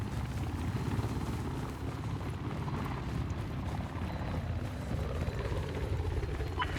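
An enemy helicopter in the multiplayer shooter Battlefield 4 makes a steady, dense rotor roar that fills the whole stretch at constant loudness, with no voices over it.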